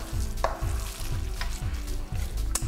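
A spoon scrapes and stirs a thick lentil and walnut veggie burger mixture in a bowl, giving steady rhythmic strokes about twice a second, close and fairly quiet, with no voices.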